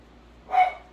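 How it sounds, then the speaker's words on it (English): A single short dog bark sounds at a moderate distance, with quiet before it. "Stop barking, please."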